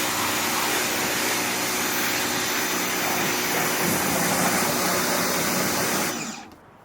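A Teande pressure washer sprays water in a steady, loud hissing roar that runs unbroken for about six seconds, then cuts off abruptly, leaving a quiet tail.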